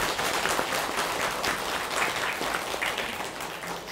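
Applause from an audience at a Buddhist temple prayer service at Sangwonsa, a steady dense clapping that fills the room for the whole stretch, with no voices standing out over it.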